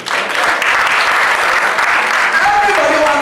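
Loud, dense audience clapping fills a hall at an inaugural circular-economy event at the Radisson Blu, steady and close throughout, with a voice rising faintly near the end.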